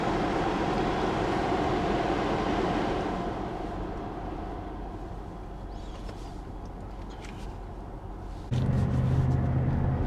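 A Chevrolet Monte Carlo's engine runs with a steady, rough, broadband rumble that eases slightly midway, then becomes louder and fuller near the end.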